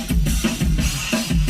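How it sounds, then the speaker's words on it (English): A punchy drum break plays, with sharp kicks and snares repeating in a tight, driving rhythm. "so that's that drum break"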